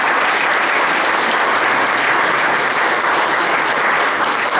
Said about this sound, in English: So if we could have a round of applause for that board.